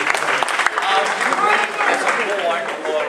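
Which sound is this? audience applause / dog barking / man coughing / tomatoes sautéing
audience applause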